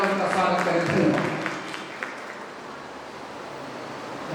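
An audience at a Hindi-Urdu poetry gathering, a kavi sammelan, claps to welcome a poet, advocate Tariq Islam; the applause is loud at first, then fades into a softer wash of scattered clapping.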